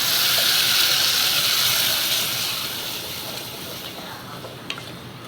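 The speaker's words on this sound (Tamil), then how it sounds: "வெங்காயம் லைட்டாக வதங்கிருக்கேன், பாதி வதங்கி தக்காளி போடலாம்." Onions fry lightly in a pan for kara kuzhambu, producing a steady, fairly loud sizzling hiss that eases slightly over several seconds, with no talking.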